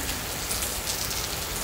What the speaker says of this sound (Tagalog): kasi napaka kusog ng ulan